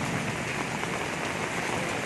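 Heavy rain from a Kalbaishakhi storm pours steadily on flooded Kolkata streets, a dense, unbroken hiss with no voices.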